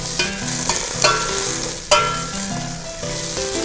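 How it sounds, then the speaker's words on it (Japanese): Vegetables stir-fry in a little oil in a pot, giving a steady close sizzle broken by the scrape and clink of stirring. "少し油で炒めます"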